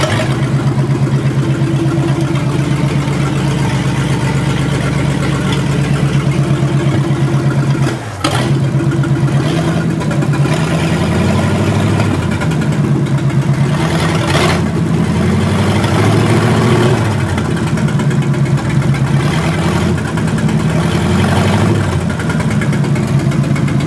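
A 1935 Ford V8 engine idles close by, a loud, steady low rumble that runs unbroken for the whole stretch apart from one brief dip early on.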